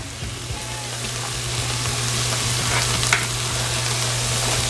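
Three garlic cloves sizzle and fry steadily in a pan for Southern red rice in the Beaufort, South Carolina style, with a constant close crackle and occasional light stirring sounds, no talking.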